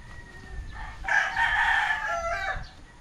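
A large, heavy-boned gamefowl rooster crows once, close and loud, in a drawn-out call with a faint clucking before it.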